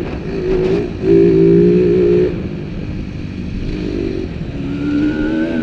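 A TM 300 two-stroke motocross bike runs on a dirt track, its engine buzzing and revving up and down with a brief loud surge, a rough raspy drone that stays close throughout.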